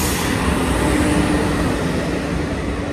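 A train at Payradanga railway station produces a loud, continuous rolling rumble of wheels and carriages, steady and close with slight swells, and no talk over it.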